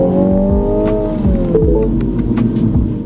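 A 2022 Mini Cooper JCW engine revs loudly and steadily in sport mode with rising and falling pitch, sharp pops and crackles breaking through the exhaust note.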